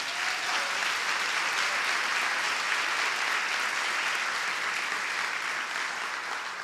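Steady, even applause from a church congregation during a sermon, a broad wash of many hands clapping at moderate volume for several seconds without break.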